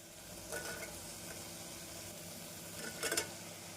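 Soft steady sizzling of chopped vegetables sautéing with onion and tomato in a pan for vegetable kurma, with a couple of brief stirring scrapes.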